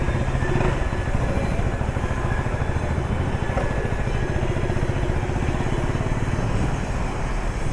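A 2025 KTM 390 Adventure motorcycle engine runs with a steady, throbbing single-cylinder drone, loud and close throughout with no pauses or voices.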